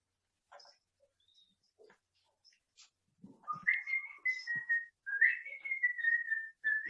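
A student whistles a few short sustained notes in a philosophy class after some faint scattered sounds, fairly quiet and alone.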